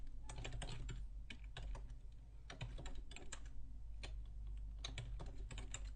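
Login details typed on a computer keyboard, a steady patter of light key clicks in quick irregular runs, fairly quiet over a low constant hum.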